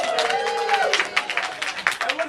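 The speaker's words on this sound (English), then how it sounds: "Applaud now." Audience clapping and cheering for the red team at a live Minor League Show game segment, a short steady burst of crowd applause with a voice talking over it.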